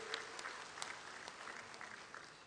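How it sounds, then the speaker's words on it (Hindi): Steady applause from a crowd at a farmers' rally, a welcome for an arriving dignitary, with dense continuous clapping of moderate loudness and a few sharper claps standing out. "दोनों हाथ ऊपर उठा के ताली बजा के उनका स्वागत कीजिए"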